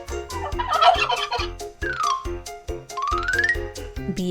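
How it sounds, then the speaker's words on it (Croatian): A cartoon turkey from a children's animal-guessing game gobbles in loud rattling bursts, with rising and falling calls between them, over a bright jingling musical backing. "Tako je, to je Puran."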